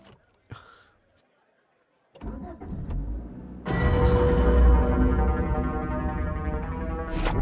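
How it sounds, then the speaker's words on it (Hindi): A car engine cranks to life after a silent pause, catching with a brief rough stutter before settling into a loud, steady idle rumble close by. "गाड़ी स्टार्ट हो गई है, कम फास्ट।"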